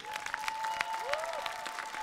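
An audience at a televised talent show applauds as a performer takes the stage, scattered claps over a sustained tone and a brief rising sweep, moderately faint.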